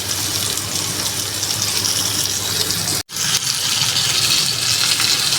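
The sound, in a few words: frying rohu fish with cauliflower and potatoes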